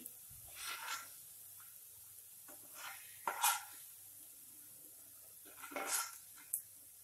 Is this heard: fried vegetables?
yes